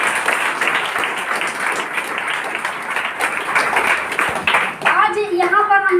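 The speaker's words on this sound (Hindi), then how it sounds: "जोरदार तालियां।" An audience gives a steady round of applause that fills the room and holds evenly. Toward the end a voice starts talking over the fading clapping.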